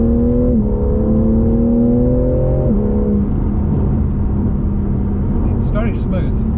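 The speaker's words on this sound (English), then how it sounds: "But you know you're in a powerful car." A BMW G80 M3 Competition's engine hums steadily under way, its smooth harmonic drone holding pitch with one clear shift partway through, while people talk inside the cabin.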